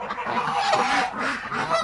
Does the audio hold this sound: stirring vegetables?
no